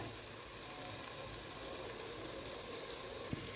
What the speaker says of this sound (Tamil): தக்காளி வதங்கட்டுங்க